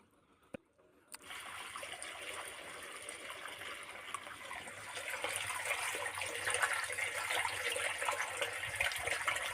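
After a couple of clicks, water starts being drawn through a venturi fitting, a hissing gurgle that grows louder and steadier over several seconds.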